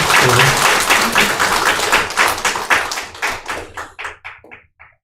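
A church congregation claps in welcome for a visitor, loud and close at first, then thinning to a few scattered, slowing claps that fade out at the end.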